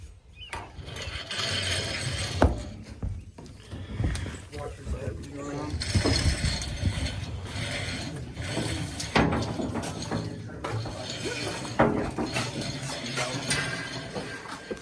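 A winch hauls a DeLorean car onto a trailer with steady ratcheting, clanking mechanical sounds that run throughout, loud and close, while people talk nearby.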